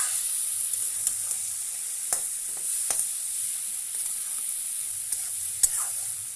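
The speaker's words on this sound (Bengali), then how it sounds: "শুটকি মাছ দেওয়ার পর সমস্তটা নেড়ে চেড়ে খুব ভালো করে মিশিয়ে নিতে হবে।" Dried fish (loitta shutki) stirred and fried in a pan over medium-high heat, a steady close sizzle broken by several sharp scrapes and clacks of the spatula, with no talking.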